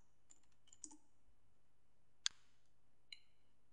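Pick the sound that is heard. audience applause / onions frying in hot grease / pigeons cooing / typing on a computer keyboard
typing on a computer keyboard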